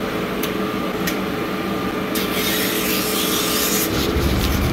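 Steady abrasive rubbing of sandpaper on a copper refrigerant line, close and continuous with no talk, during repair of a leaking evaporator in a 48-foot service meat case.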